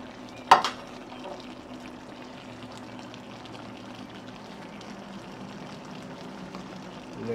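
Onions dropped into a Le Creuset pot of simmering lamb shank tagine: a sharp splash and clatter near the start, then a soft steady bubbling and gentle sizzle, close and quiet, with no voices.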